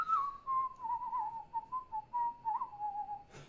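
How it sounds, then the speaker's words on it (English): A person whistles a wavering, sustained tune on a live stream, close and fairly soft, sliding between a few pitches with short breaks, ending in a brief noisy burst. "I don't like to whistle myself, but I try."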